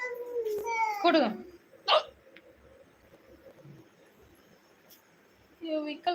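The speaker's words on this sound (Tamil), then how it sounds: "விக்கல் வருது." A baby hiccups a few times at close range, the short catches standing out over a quiet room, with a voice talking softly nearby.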